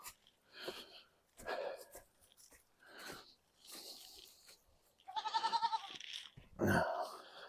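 Goats bleat several times close by next to a house, short nasal calls in a loose sequence, one longer wavering bleat near the end.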